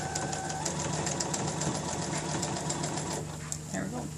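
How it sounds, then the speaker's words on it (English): A Baby Lock sewing machine stitches a recycled t-shirt, its rapid needle chatter running steadily and close, with quiet background sounds and a brief slowdown near the end. "can you see that I'm sewing it at an angle from this corner to this corner?"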